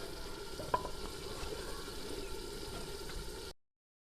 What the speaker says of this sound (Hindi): अब चिकन जो है वो अच्छे से भुन गया है